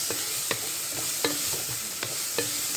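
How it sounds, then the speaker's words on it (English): A spoon stirs spaghetti bolognese sauce in a pan, making about five sharp scraping knocks at a slow, even pace over a low, constant sizzle. "Give it a good mix."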